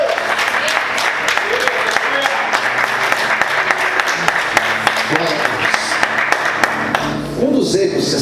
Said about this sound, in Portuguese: Aplauda Jesus com muita alegria. Dê fortes palmas.